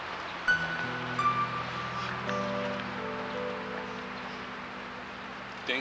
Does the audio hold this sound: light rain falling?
yes